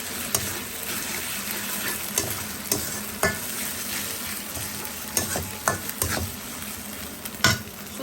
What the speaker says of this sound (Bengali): এই যে আদা জিরা আর কাঁচা মরিচ বাটা দিলাম